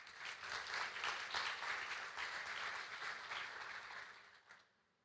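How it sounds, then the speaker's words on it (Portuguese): Church congregation applauding during a worship service, a faint, distant wash of many hands clapping steadily before tapering off into quiet near the end. "dar um aplauso ao Senhor pela vida do pastor Júnior?"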